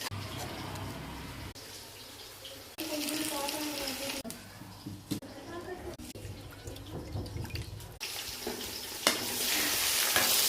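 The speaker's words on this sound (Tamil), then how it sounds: "எண்ணெய், பட்டை, லோங்கு, வெங்காயம் போட்டு நல்லா வதக்கிக்கலாம்" Onions with cinnamon and cloves sautéed in oil for biryani, sizzling steadily while being stirred, with a few scraping stirs and a brief running-water moment; background voices and kitchen noise mix in close by.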